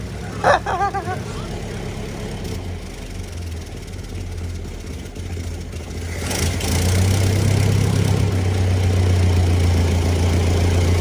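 A Ford 801 tractor engine idles with a steady low rumble as grease burns off the hot exhaust, growing louder and deeper partway through, with a brief clank near the start.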